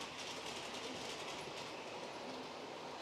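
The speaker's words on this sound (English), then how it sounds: "those coaches are making a very satisfying clickety-clack as they go over some of the track gaps" Model railway coaches rolling steadily along a layout with long express points, their wheels giving a continuous clickety-clack over the track gaps, close and moderately quiet with no talking.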